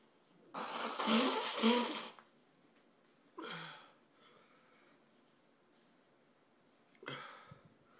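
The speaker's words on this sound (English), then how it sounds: "I'm gonna blow my nose" Several honking nose blows after eating a Douglah superhot chili pepper, a long forceful one followed by two shorter bursts, close and loud with quiet breathing in between.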